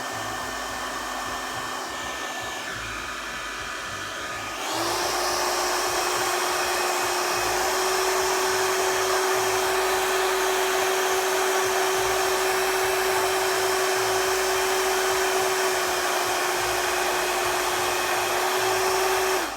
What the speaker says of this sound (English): we're gonna use a hair dryer